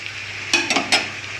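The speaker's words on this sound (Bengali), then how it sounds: "ইঁচড় আর আলুটা দিয়ে দিয়েছি মশলাটা কষানো হয়ে যাওয়ার পর" A spice masala with young jackfruit and potato is stirred in a pan. A soft sizzle sits under three quick scraping bursts from a spoon, close and brief.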